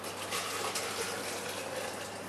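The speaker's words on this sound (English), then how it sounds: "We'll use a little bit more of the hot water." Hot water pours steadily into a homebrew pot holding the base for a dark chocolate stout, a continuous close splashing gush with no talk over it.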